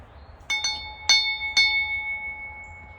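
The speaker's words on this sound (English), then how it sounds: "I have this old-fashioned bell in my yard." An old-fashioned bell hanging in a backyard rings out in four clear metallic strikes, each leaving a long, bright ringing tone that sustains and slowly decays between hits, with no talking.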